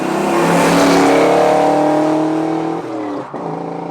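A 1988 Ford Mustang 5.0 convertible engine revving hard toward the top of its range, a loud, close, sustained roar with rising pitch that dips briefly near the end, no talking.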